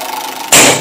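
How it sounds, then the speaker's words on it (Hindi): A rickshaw engine effect cuts in suddenly and loudly over a low background tone, a short, bright mechanical burst lasting under half a second with no voices. "रिक्शा"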